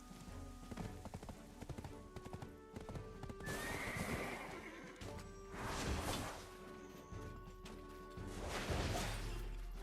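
A horse in the online game Black Desert Online, with quick clip-clop hoofbeats up front, then several loud drawn-out neighs and whinnies in succession, close and prominent.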